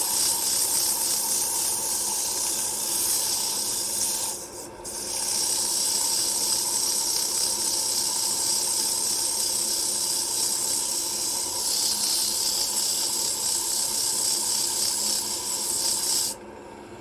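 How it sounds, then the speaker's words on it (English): A wooden scoop being sanded on a spinning wood lathe, giving a steady hissing rasp that holds evenly for most of the stretch, with two brief dips where the abrasive lifts off the turning wood. "We'll go ahead and do just a little bit more sanding."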